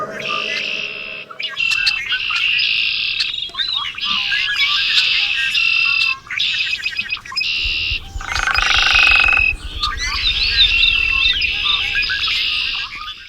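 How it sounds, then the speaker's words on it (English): Many birds chirp and tweet in quick, overlapping bursts, nearly nonstop, with a low rumble rising underneath partway through. "Here are some birds."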